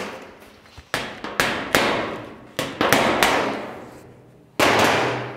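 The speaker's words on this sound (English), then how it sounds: "give that a hit from underneath to bring it up a bit quicker" A hammer strikes a car bonnet panel from underneath, about eight loud metallic clangs in an irregular rhythm, each ringing out briefly before the next hit.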